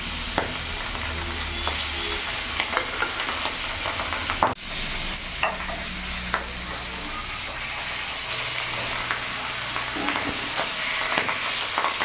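Pabda fish frying in hot oil over a medium gas flame, a steady dense sizzle that runs the whole time with occasional louder pops and spatters, close and alone without talk.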